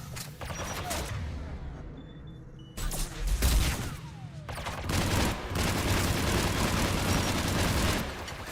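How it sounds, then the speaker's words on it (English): Heavy weapons fire in Mass Effect as a missile is launched: loud bursts of blasts and rumbling booms repeat in waves over several seconds, close and dense, with a brief quieter gap between volleys. "Did I actually just shoot that missile?"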